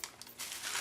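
Plastic bubble wrap crinkles while a mailed parcel of electronics parts is unpacked, a few soft rustles at first and then a louder, steady crackle up close.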